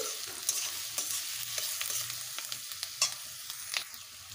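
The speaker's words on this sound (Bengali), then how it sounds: "দিয়ে দেব কোচানো পেঁয়াজ" Chopped onions sizzle in hot oil with cumin seeds in a pan for a taro stolon curry, a soft continuous fry broken by regular scraping clicks of a spatula stirring, close and fairly quiet.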